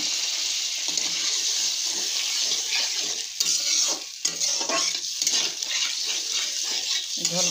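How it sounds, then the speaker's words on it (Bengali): Hot water poured into a pan of fried spice masala brings a loud, close hiss and bubbling sizzle, with stirring clatter and splashing that continues steadily throughout, no voices. "গরম করে একটু গরম জল দিলাম।"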